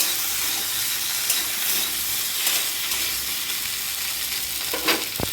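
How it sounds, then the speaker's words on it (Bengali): Okra (bhindi) fries in hot oil in a pan for a Bengali okra-and-potato dish, giving a steady, close sizzle with faint crackles and a light stir or scrape near the end. No one talks. "এবার এখানে আমি ভেন্ডিগুলো দিয়ে দেবো। ভালোভাবে ভেজে নেব।"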